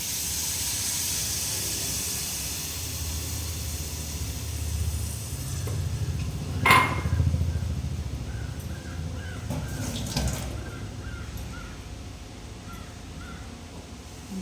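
Homemade tamarind water is poured into a hot pan and hisses, with a steady sizzle, a sharp burst midway and softer stirring after it. Crows caw faintly in the background.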